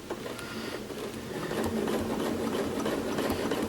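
A sewing machine stitches a quilt along a ruler template, running as a steady, fast mechanical whir that builds slightly in loudness and continues without pause, close and alone.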